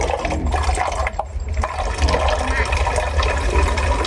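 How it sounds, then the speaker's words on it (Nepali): Water poured into a household drinking-water filter, a loud continuous gushing splash with a brief dip partway through before the flow picks up again. "म फिल्टरमा भर्छु"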